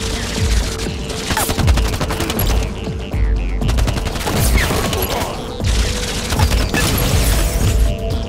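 Gunfire in a firefight, dense rapid bursts of shots repeating loudly and continuously across the scene with echoing cracks.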